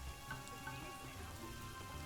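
Rain falls steadily in the zoo-building video game Planet Zoo, heard as a quiet, continuous patter and hiss of drops across the whole scene.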